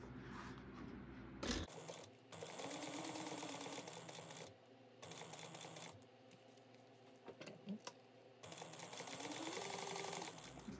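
A sewing machine stitches two pressed fabric pieces together at an eighth-inch seam, running in several steady bursts of motor whir and needle chatter separated by brief pauses and small handling clicks, close and moderately loud.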